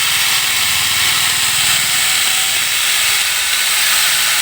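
A saw cuts through a tree branch for firewood, giving a loud, continuous hissing buzz that holds steady without pause from start to finish.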